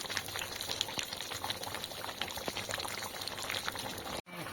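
Chicken cooking in a pot in a rural village kitchen gives a continuous close bubbling hiss with scattered small pops and crackles throughout, then briefly cuts out near the end.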